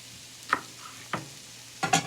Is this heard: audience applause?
no